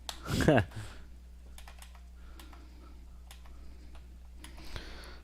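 Computer keyboard typing during a Windows Run dialog session: a short loud burst at the start, then scattered faint key clicks at an irregular pace, with no talking.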